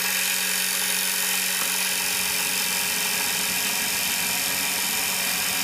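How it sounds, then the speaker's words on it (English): The magnet of a one-piece unipolar generator spinning up, heard as a loud continuous motor whine with a steady hum and rising pitch, close and with no voices. "I'm going to spin the magnet up on the back side"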